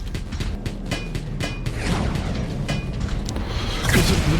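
Rocket guns firing in the game Wall World, a rapid string of heavy booms and thuds close up, one blast running into the next over a dense low rumble.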